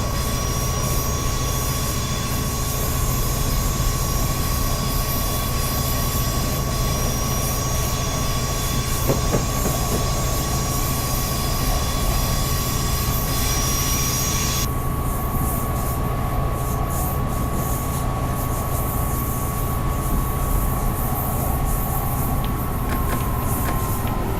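A train running in the video game Train Simulator on the Riding the Surf route gives a steady, loud rolling rumble and engine drone with faint wheel clatter, unbroken throughout.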